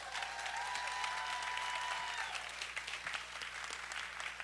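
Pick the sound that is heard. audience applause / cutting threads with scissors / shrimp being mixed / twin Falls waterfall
audience applause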